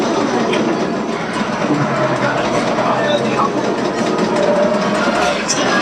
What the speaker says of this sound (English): There it is, the train.